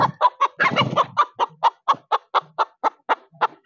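A chicken clucks repeatedly in a quick, steady series of short calls, close by and loud, with a brief flurry of busier clucking early on.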